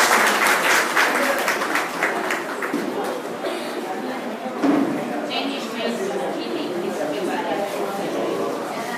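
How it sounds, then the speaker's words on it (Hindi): Loud audience applause at a stage event, a dense sustained burst of clapping from a large crowd, with voices faintly mixed in underneath. "प्लीज जोरदार ताली से बजाएं।"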